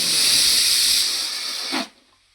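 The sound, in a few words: pressure cooker whistle releasing steam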